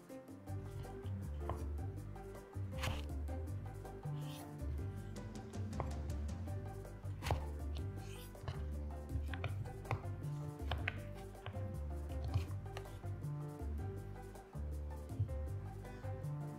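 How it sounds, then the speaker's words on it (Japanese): A knife cuts a vegetable into 5 mm quarter-round slices on a cutting board while making pork miso soup. The quiet, steady chopping taps repeat evenly with no talking. "5ミリ幅に切る。 いちょう切りにする。"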